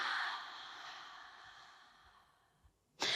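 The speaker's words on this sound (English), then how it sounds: "Big breath in here. Exhale." A long, audible breath flows out steadily and fades during a yoga pose, followed by a sharp new intake of breath, close and soft with no talking.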